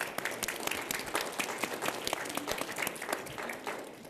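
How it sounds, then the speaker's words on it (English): Audience applause at a World Economic Forum panel discussion, a steady wash of many hands clapping throughout, moderately loud and continuous without talk. "Could we give them a round of applause,"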